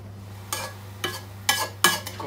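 Vegetables being sautéed and stirred in a pan, a few spaced scraping stirs over a low steady hum, fairly close.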